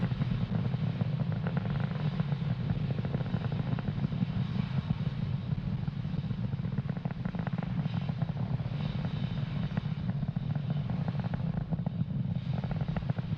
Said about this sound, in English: You are watching Falcon 9 accelerate Spaceflight's Sherpa-LTC 2 and our Starlink satellites